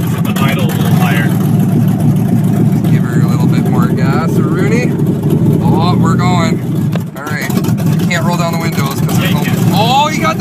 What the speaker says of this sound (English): We're gonna peel out on the grass and we're gonna leave some rubber behind.